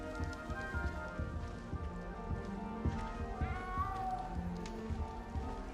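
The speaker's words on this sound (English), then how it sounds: "Probably the cat." A cat meows several times in a video game scene, the cries rising over a steady patter of rain on a surface, with no talking.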